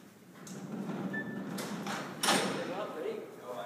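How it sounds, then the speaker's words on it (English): Heavy barred cell doors at Alcatraz prison rolling along their track and banging shut, a series of metallic slides and one sharp slam near the middle, with a voice speaking over the racket. "You'll hear the sound of these doors, and you'll understand why they call it a slammer."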